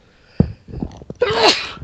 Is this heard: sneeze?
yes